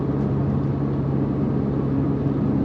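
Exhaust from a Ferrari 296 GTB drones inside the cockpit at low speed in fifth gear, a steady muffled rumble that holds at an even level throughout with no talking.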